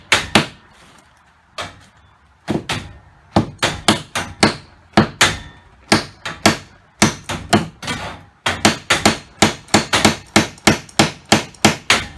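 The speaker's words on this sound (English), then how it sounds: "So they lay everything out, and then they go about hammering it together" Sharp hammer blows drive nails into wood framing in a garage, again and again in quick bursts, loud and close, with brief pauses between runs of strikes.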